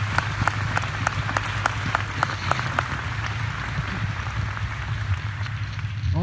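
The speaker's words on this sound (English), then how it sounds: "So big round of applause" At a Navy change of command ceremony on NAS Whidbey Island, the crowd gives a sustained round of applause, with crisp individual claps standing out over a steady low hum.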